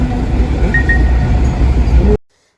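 A train rumbles past with a loud, steady roar and faint metallic squeals, then the sound cuts off abruptly into silence.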